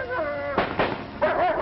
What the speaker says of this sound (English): our canine rookies find out as one explosion after another comes over